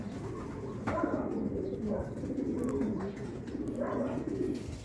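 Pigeons coo softly in low, throaty repeated calls, several birds close by, with faint rustling and flutter in the background.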